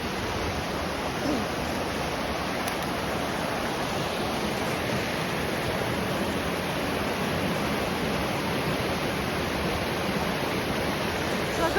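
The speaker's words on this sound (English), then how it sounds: "So let me go over here now so you can get that good view of that waterfall." A garden waterfall on a brook running high rushes in a steady, loud, broadband roar that stays constant throughout, close by, with no voices over it.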